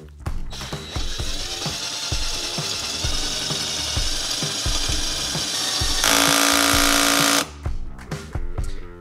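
Parkside PBSA 20-Li A1 20 V cordless drill boring out a hole in steel with an 8 mm metal bit, a steady loud whine broken by rapid ratcheting clicks of the clutch, with a harsher, louder stretch near the end.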